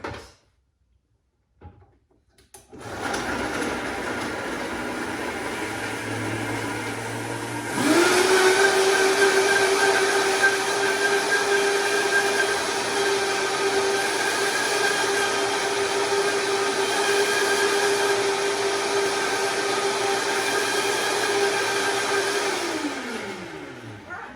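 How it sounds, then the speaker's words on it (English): A countertop blender purees cauliflower and water for soup, starting with a low motor hum that jumps to a loud, steady high-speed whir held for about fifteen seconds before winding down, with no talking. "I'm going to go ahead and blitz this, blend it up very quickly over here in my blender"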